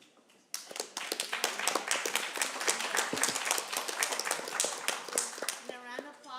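An audience at a community forum on Massachusetts ballot questions breaks into applause, a sudden burst of many hands clapping that holds steady for several seconds before tapering, with a voice briefly heard near the end.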